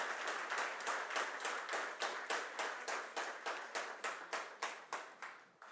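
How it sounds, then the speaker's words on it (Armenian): An audience greets soldiers with loud, rhythmic clapping that settles into a steady, even beat of unison claps, dense and close, fading slightly at the end. "ես առաջարկում եմ բարձր ծափահարություններով մեր զինվորականներին ողջունել"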